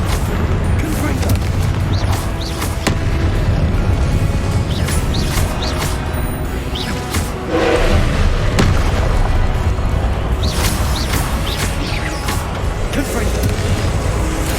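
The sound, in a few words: Confringo fiery blast spell explosions from video game Hogwarts Legacy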